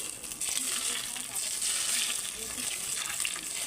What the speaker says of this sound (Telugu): వేయించిన వేడి ఆయిల్ ఉంది, వేడి ఆయిల్ ఇందులోనే వేసుకోవాలి